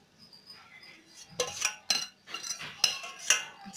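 A spoon scrapes and clinks against a pan while popcorn is stirred through caramel. The knocks and scrapes come in an irregular series of five or six close, moderately loud metallic strokes.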